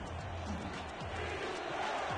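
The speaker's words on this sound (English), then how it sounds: "Crowd here in New Orleans wanting the defensive stop" Football stadium crowd in New Orleans roaring steadily, a dense, continuous wall of distant cheering and noise with no pauses across the whole stretch.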